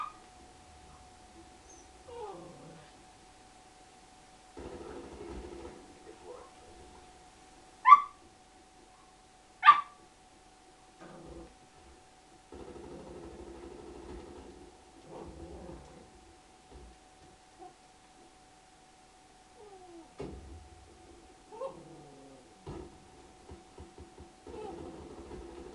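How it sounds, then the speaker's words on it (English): A household dog gives sporadic barks and whimpering yips indoors, mostly soft with a couple of sharper, louder barks, spaced out over a quiet room where a person's voice also comes and goes. "Damn dog."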